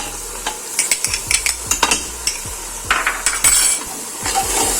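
Mutton with garlic-ginger paste and onions frying in a karahi, with a steady sizzle under repeated sharp metal scrapes and clinks of a ladle stirring against the pan.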